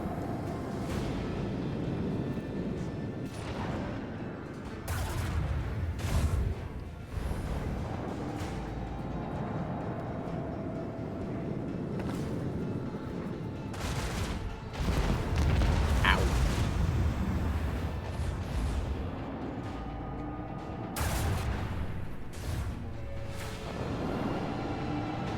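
Torpedo explosions in Rogue Trader space combat, a series of sharp booming bursts spaced across the scene, moderately loud, with occasional talk between them.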